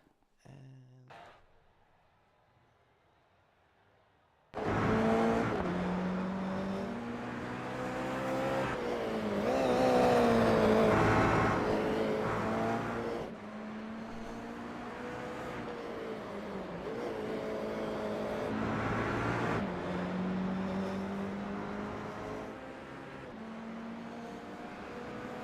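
Toyota GR86 race cars in a national series round on the Detroit Grand Prix street circuit, with engines revving and accelerating loudly past one after another, and gear changes and swelling passes over a steady roar.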